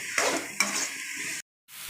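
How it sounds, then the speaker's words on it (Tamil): Onions and tamarind sizzle and sauté in a pan for onion chutney, with a couple of spatula scrapes over steady frying hiss, then a brief silence before the sizzle resumes. "இந்த அளவுக்கு நல்லா செவக்கு வறுத்துக்கணுங்க"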